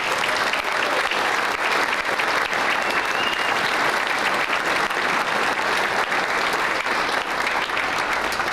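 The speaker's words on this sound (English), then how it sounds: "Please give them a huge round of applause." Crowd applause at a town business appreciation breakfast, a steady, even roar of many people clapping together, sustained from start to finish at moderate distance.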